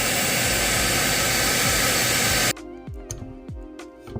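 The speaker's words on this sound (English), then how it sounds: "Take a hair dryer and heat the head for a few minutes" A loud, steady hair dryer blows with a rushing hiss for a few seconds, then cuts off abruptly into quieter background sounds.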